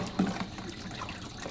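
Water pouring and splashing steadily as it drains out of a goldfish tank, a continuous close trickling wash with a brief louder gush near the start.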